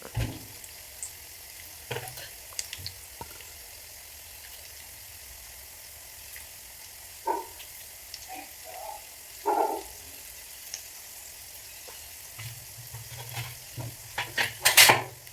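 Peanuts fry in oil with garlic in a pan, a soft continuous sizzle broken by scattered stirring scrapes and clinks of a spoon against metal, growing busier toward the end.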